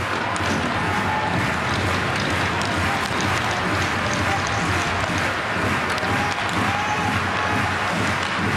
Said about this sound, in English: The Swedish fans are on their feet and clapping with their team down